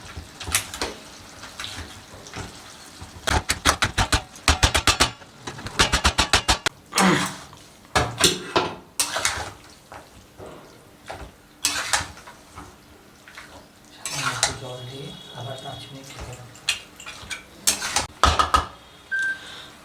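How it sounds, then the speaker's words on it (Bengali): A metal spatula clanks and scrapes repeatedly inside a wok as fried fish heads are broken up for a Bengali fish-head and Malabar spinach dish, in close, irregular bursts of rapid metallic clatter. "কড়াইয়ের মধ্যে খুন্তির সাহায্যে ভেঙে দেবো"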